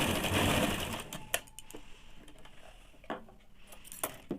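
A sewing machine stitching fabric strips for a saree blouse: a dense mechanical whir at first, then quieter, intermittent clicking and tapping of the machine and fabric being handled, fairly close.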